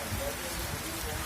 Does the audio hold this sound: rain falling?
yes